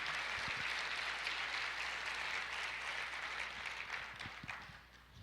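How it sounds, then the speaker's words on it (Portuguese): A church congregation applauding during a sermon on prayer, a steady wash of clapping that gradually fades toward the end, heard from some distance. "Pode aplaudir."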